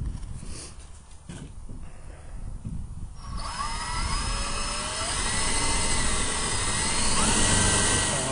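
A 2.5 inch hole saw on a drill cuts through a fiberglass pool wall, first a loud whirring drill with gaps, then a sustained harsh grinding bite into the material, close and continuous.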